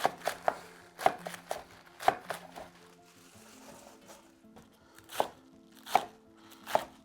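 A knife slices through napa cabbage on a cutting board for homemade kimchi, giving sharp, close chops spaced unevenly, some quick pairs and some single cuts, over a quiet background.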